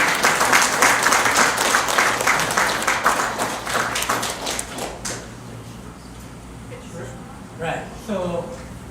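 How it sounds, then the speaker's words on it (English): A graduation audience gives a loud, dense round of applause that fills the room for about five seconds, then fades out, and a voice begins speaking over the quieter tail. "A round of applause for everyone."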